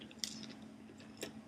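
Someone eating an Anzac cookie close up, giving a few soft crunchy bites and quiet chewing over a faint background hum, no talking.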